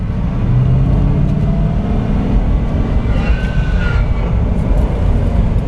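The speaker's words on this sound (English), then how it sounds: "I'm so excited we actually shifted gears right now, guys." A salt-water-damaged 11,000-mile Ford Mustang Cobra drives steadily with a loud, continuous engine and road roar that holds throughout, changing gears along the way, with no talking.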